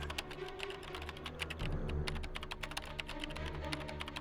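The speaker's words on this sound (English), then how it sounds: "I hear somebody typing." Keyboard typing in a library scene from the video game Nancy Drew: Curse of Blackmoor Manor, a rapid, steady patter of keystrokes heard over a continuous low ambient music bed.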